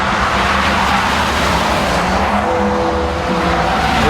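Mazda MX-5 race cars in a BRSCC championship round at Croft circuit, engines roaring loud and continuous as the pack races past, with rising and falling revs and a faint squeal of tyres.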